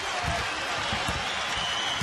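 A basketball arena crowd at a UNLV game cheers and applauds after a defensive steal, a dense, sustained roar of many people with a voice faintly audible underneath.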